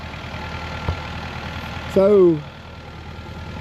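A farm tractor used for hay cutting idles with a steady low rumble. A voice speaks briefly midway, and a louder tonal burst rises over the engine for a moment.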